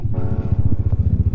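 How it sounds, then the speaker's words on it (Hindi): A motorcycle pulls away from Triyuginarayan Temple in Uttarakhand, its engine close and throbbing in quick, even pulses as it gets moving. "मैं अब बैठ चुका हूँ अपने बाइक पे, और मैं अब निकल चुका हूँ यहाँ से"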